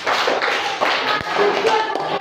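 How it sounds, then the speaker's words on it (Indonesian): Classroom of students clapping for a group about to present their work, close and loud; a brisk run of handclaps with a few sharper taps and thumps, and voices mixed in. "Tepuk tangan untuk kelompok 1."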